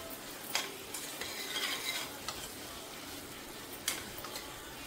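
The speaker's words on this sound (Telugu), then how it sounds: "ఇప్పుడు ఇవన్నీ కలుపుకోవాలి బాగా." Brinjal chutney mixture with curry leaves and turmeric is stirred in a pan, a soft sizzle under sharp, intermittent scrapes and taps of the spoon against the pan, close and fairly quiet.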